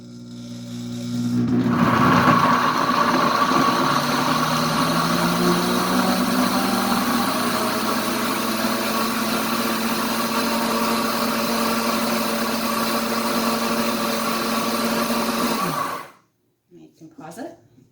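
A Pampered Chef Deluxe Cooking Blender on its grind setting runs loud and steady for about sixteen seconds, whirring as it processes cheese sauce, then cuts off abruptly into near silence.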